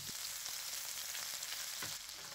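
Frozen cod frying in butter in a coated frying pan, a soft, even hiss of sizzling that carries on throughout at moderate level with a couple of faint taps.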